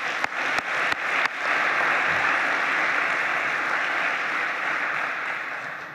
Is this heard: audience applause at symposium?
yes